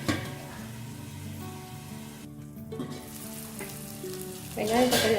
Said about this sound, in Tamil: வெங்காயம் தக்காளி நல்லா வதங்கிருக்கோம்.